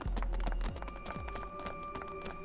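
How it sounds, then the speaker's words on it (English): Footsteps from the video game Virtue's Last Reward, a run of rhythmic clip-clop steps ringing on over a low hum and sustained tones, close and fairly loud. "the footstep sound lasts at least 2 seconds too long every time"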